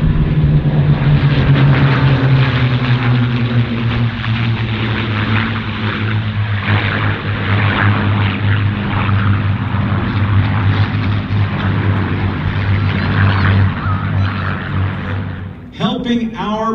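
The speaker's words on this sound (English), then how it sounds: "Here come the Mustangs again." P-51 Mustang warbirds fly past in finger-four formation at the 2017 California International Airshow, their piston engines droning loud and steady with a deep propeller hum that holds, then fades near the end.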